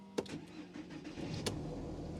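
A Toyota 1JZ car engine starting up after sitting unused all winter: a sharp cranking burst, then the engine catches and settles into a steady, close idle with a rough low rumble.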